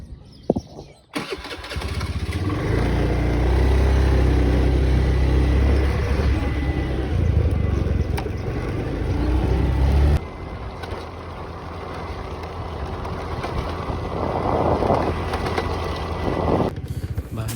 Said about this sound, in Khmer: បានស្ដាប់សំឡេងម៉ូតូទៅ